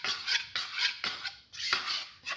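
Yogurt stew with garlic, ginger and green and red chillies is stirred in a pan, a spoon scraping in repeated rhythmic strokes about every half second, close and fairly loud, no talking.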